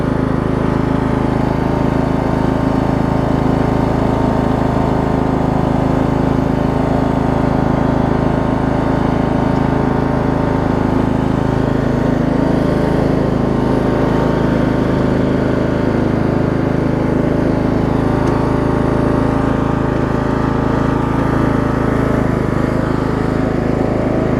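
A Craftsman LT2000 riding lawn mower engine running steadily after trouble with backfiring on starting, giving a loud, continuous, even drone close by with no breaks, and no voices over it.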